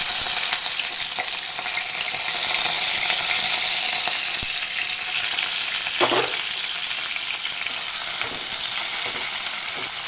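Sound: chopped onions frying in a pan

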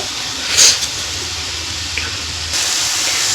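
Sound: pouring water into melting jaggery and coconut

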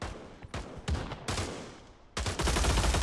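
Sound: bullpup rifle gunfire in Pavlov VR video game

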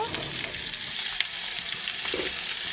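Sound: frying drumsticks and potatoes in a pan

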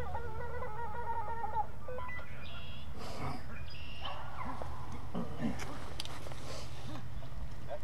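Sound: hunting dog barking while chasing a swamp rabbit

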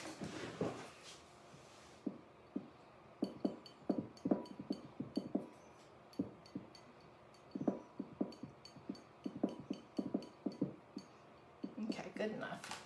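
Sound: stir stick mixing diluted ink in a container

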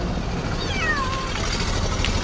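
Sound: cat meowing

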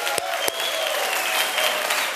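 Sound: audience applause for Lázaro Candal

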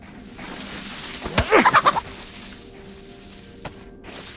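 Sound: chicken clucking in the video game DayZ

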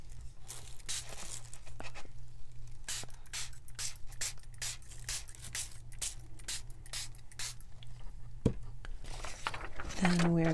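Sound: spraying dye from spray bottle

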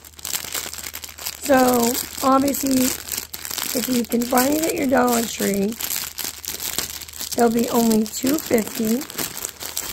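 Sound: crinkling plastic packaging of Dollar Tree faux fur being opened

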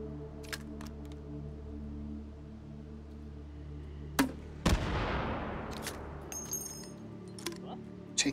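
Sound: grenades exploding in Hot Dogs, Horseshoes & Hand Grenades VR game

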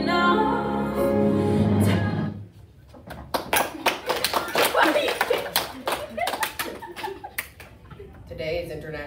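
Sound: audience clapping after a performance

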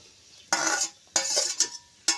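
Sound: onion frying in a pan

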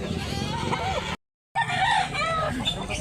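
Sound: rooster chicken

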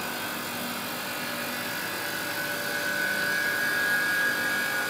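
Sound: refrigeration compressor of BLS 2500 starting and running

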